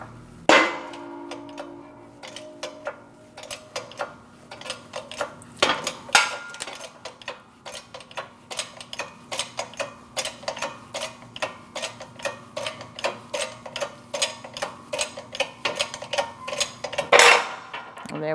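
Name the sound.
press pushing wheel hub out of steering knuckle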